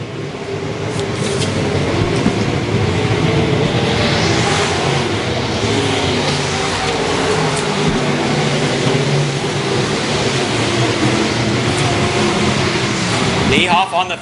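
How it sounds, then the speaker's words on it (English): Race car engines roaring at full throttle on a dirt oval during a Memorial Day special with modifieds, late models and midgets, a continuous loud drone of several cars running hard throughout. "Niehoff on the throttle hard now as Dakota Foster does all he can to try to reel him in"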